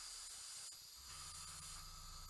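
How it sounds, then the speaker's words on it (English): Airbrush hissing steadily as it sprays paint onto a miniature Sons of Horus Land Raider tank model for Legions Imperialis, a continuous close airy spray with a faint low hum underneath. "Make sure I'm spraying towards the front of the tank."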